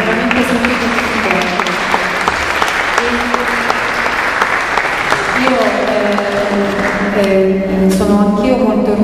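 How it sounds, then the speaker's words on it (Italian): Audience applause rings out at an art exhibition opening, steady clapping filling the room for several seconds while a voice talks over it. "quindi un doppio applauso veramente."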